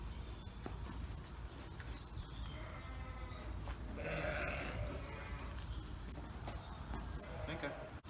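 A market lamb held firmly by the neck and chest gives a short bleat in the middle, while a person talks steadily throughout over soft outdoor background noise.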